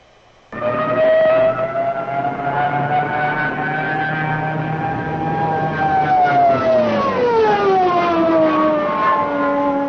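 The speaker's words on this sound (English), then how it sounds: "they put sirens on these Stukas with the idea being that this would add to the panic" A loud, sustained wailing siren from a Stuka dive bomber, with a rising then falling pitch, droning steadily for several seconds without any voices.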